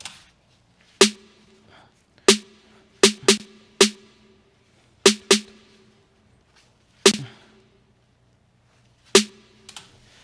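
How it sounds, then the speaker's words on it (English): Trap beat snare, programmed for a track, with sharp isolated hits about every second or two, some in quick pairs as fills, played alone with no other instruments. "I put the snare on every third, and I put a little fillers every once in a while."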